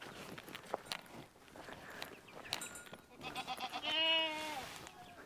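Goats in a mountain village in northwest Vietnam's highlands bleat nearby, with a loud wavering bleat toward the end, following scuffling movement and rustling.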